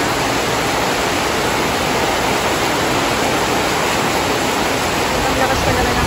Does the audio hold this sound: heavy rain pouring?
yes